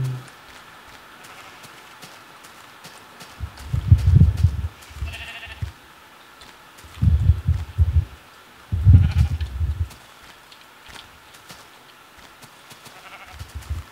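A sheep in Minecraft bleats in three short bursts, the first around the middle and two more close together later. The calls are moderately loud over a faint background.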